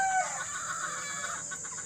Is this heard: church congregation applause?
no